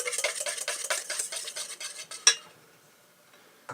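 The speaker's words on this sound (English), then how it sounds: "keep mixing it, and I'll add a little bit of butter, and I'll keep mixing that" Hollandaise ingredients whisked in a bowl over steam, a fast rhythmic scraping and clinking of the whisk that stops with one final clink and then near silence.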